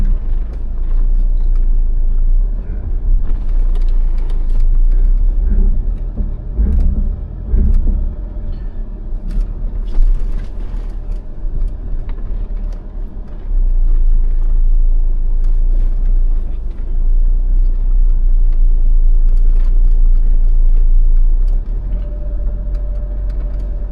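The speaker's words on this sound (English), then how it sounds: "That's the power shifting here." Jeep Meridian 4x4, a 2025 model, driving over rugged terrain with steady low engine rumble and drivetrain noise through the cabin, plus a few knocks and bumps, with no talking.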